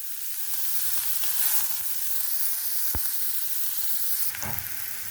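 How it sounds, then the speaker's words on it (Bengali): Sliced onions fry in hot oil left from frying eggplant, giving a steady, close sizzle with a few sharp clicks and stirring knocks, and no voices. "তেলের ভিতরে এখন দিয়ে দেব কিছুটা পেঁয়াজ।"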